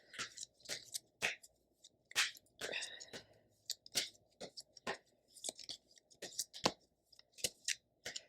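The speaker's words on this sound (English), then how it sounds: "let me shuffle it. Shuffle the cards." Quick, crisp tarot-card-shuffling riffles repeat in short irregular bursts, close and fairly quiet, with no talking.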